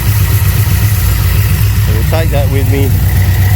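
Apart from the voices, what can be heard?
Holden HZ with LS engine swap idling cold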